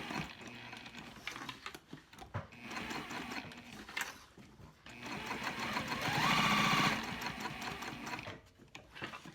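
A sewing machine stitches Sileather in fast rhythmic bursts, running for a few seconds, pausing, then running again louder and close by, with a brief faint voice.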